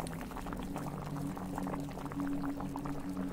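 Food bubbling in a pot in the Chinese horror video game Firework, a steady low simmering boil with soft continuous gurgles, faint and close.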